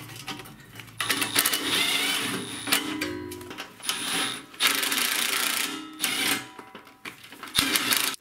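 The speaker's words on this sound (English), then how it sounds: "I'll do the final tightening by hand with a ratchet." Hand ratchet doing final tightening on bolts of a Kohler single-cylinder OHV lawn tractor engine, with dense, busy close-up mechanical clicking and whirring in repeated bursts, loud and without speech.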